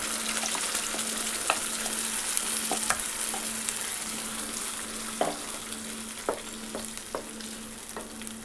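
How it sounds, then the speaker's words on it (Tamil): Oil sizzles steadily in a pan with a constant hissing crackle as ground tomato gravy paste fries with curry leaves, broken now and then by short scraping and stirring clicks. "இதில் இந்த அரைச்ச இந்த பேஸ்ட் சேர்த்துடலாம்"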